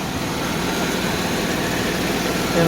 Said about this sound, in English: the gasket noise from the exhaust manifolds. I think that's what I hear.